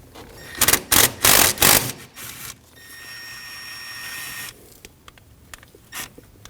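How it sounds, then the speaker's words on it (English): An 8mm ratchet wrench loosens the bolt holding the rear variable valve timing solenoid on a 2009-2014 Ford F-150 3.5L V6, with a few quick bursts of ratcheting clicks followed by softer metallic taps and rattles. "Now we can remove the bolt holding our solenoid in with an 8mm."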